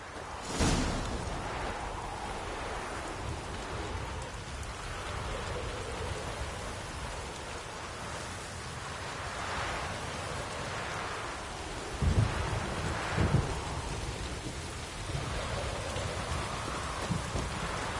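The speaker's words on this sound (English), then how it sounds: "A storm, damn it." Steady rain with rolling thunder fills a storm scene in a PS4 video game, a constant wash of downpour broken by a few louder cracks of thunder near the middle, with no talk over it.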